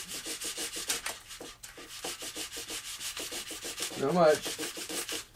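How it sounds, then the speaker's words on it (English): A part of an RC wing is trimmed with rhythmic back-and-forth rasping strokes, close and steady, while a voice speaks briefly near the end. "I'm just trimming a little bit off this."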